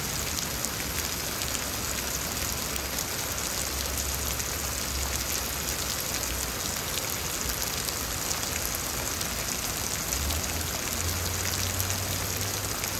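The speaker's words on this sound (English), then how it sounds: "Little pea-sized hails." Pea-sized hail coming down in a Houston storm, an unbroken wash of fine pattering impacts with occasional low rumbles underneath, steady and close, no talking.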